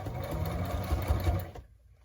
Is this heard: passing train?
no